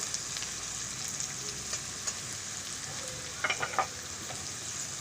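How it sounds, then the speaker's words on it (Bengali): Ground spice masala of coriander, cumin, red chilli and turmeric with sugar fries in oil in a pan, giving a soft steady sizzle with a few light scrapes of stirring near the end. "স্বাদ মতো চিনি দিয়ে আমি মশলাটা ভালো করে কষিয়ে নেব।"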